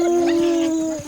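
A hyena gives a sustained, loud, tonal howling call during a hunt on the Serengeti, one long wavering note held for about a second.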